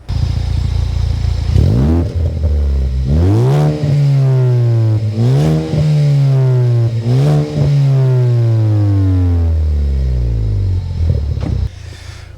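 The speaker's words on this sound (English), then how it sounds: "So you can already hear it's a much bassier sounding exhaust." A Ford Focus ST3 with an aftermarket bassy exhaust, driven with windows open: a deep, loud engine drone that revs up through several gears with clear shifts, then settles, close and without talk.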